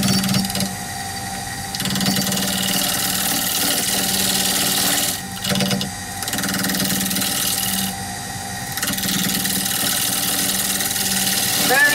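A lathe turns a natural-edge red cedar bowl at about 1150 RPM in a tiny workshop aboard a catamaran, a continuous close mechanical whir and hum with a brief dip midway. Someone speaks faintly underneath.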